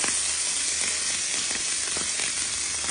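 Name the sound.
marinated fish frying in a pan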